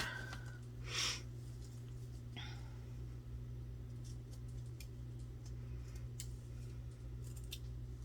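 Scissors cutting paper for a junk journal cover, a few brief close snips over a steady low hum, with faint light rustling between them.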